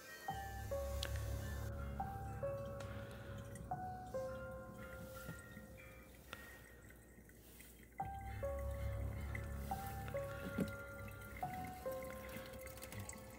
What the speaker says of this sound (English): Dishwasher's pumping out good.